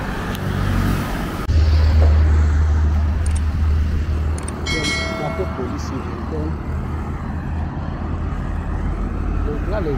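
Road traffic at a crossroads in Port-Bouët, Abidjan, where traffic has been held up for officials heading to the airport: a steady roar of car and truck engines with a loud nearby rumble, and a voice speaking over it.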